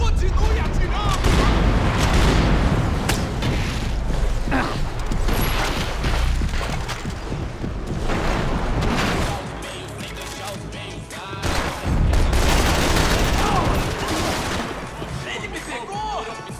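Gunfire in a firefight in the video game Max Payne 3, dense volleys of shots and booms in repeated bursts with brief lulls, under shouted voices.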